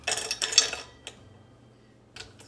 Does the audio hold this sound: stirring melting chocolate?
yes